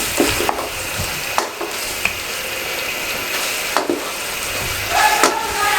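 Chicken is stir-fried in a pan while making chicken kachori, giving a soft, continuous sizzle. A few sharp scrapes and knocks of a stirring utensil punctuate it at irregular intervals.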